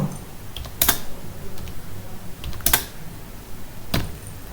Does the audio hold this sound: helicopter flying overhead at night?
no